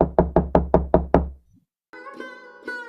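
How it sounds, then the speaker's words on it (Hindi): Six firm knocks strike the door of a grand village house in a steady, even rhythm, loud and close, followed after a short pause by a sustained tonal sound. "सुखीलाल के आलीशान घर का दरवाजा खटखटाती है।"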